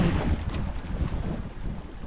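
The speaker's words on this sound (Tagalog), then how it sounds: "Umihit ng hangin." Steady wind gusting across open water, a continuous low rushing roar buffeting the microphone.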